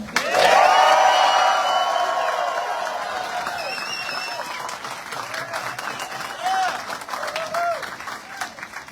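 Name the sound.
crowd cheering and applauding at bike park opening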